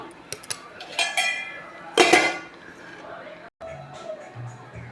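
Brinjal chutney made with minapa vadiyalu is spooned from the pan into a serving bowl, with scattered clattering scrapes and clinks of utensils against metal while a person talks.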